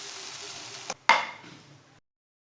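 Egg and semolina halwa being scraped from a pan onto a plate: a dull clack, then a sharp scraping knock followed by a fading hiss, ending in silence.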